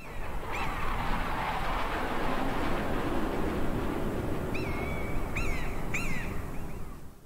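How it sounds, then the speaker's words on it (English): Steady broadband ambience in the game Tanks with a few short chirping bird calls near the end; no distinct aircraft pass stands out above the wash. "I used some random containers to trigger bird sounds and plane flybys."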